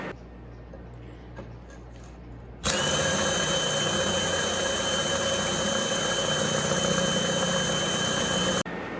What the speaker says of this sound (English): we are drilling through a slump block, and this is a hammer drill